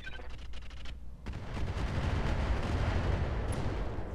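Incendiary weapons firing in the mech game Roguetech: a dense, continuous roar of rapid gunfire and blasts swells after a brief lull and rumbles loudly for several seconds, with no talking.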